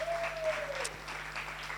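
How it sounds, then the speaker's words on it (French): Brief audience applause rises as a diffuse wash of clapping, fairly distant and moderate in level, with a thin whistling tone and a low hum running underneath. "Ouais, on peut les applaudir"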